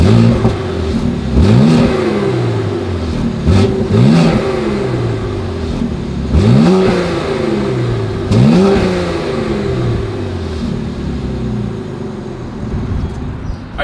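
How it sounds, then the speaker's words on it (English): A 2020 BMW X3 M exhaust in its loudest mode revs repeatedly, with rising and falling engine pulls roughly every two seconds, loud and close with no talk. "As always, here is that exhaust clip."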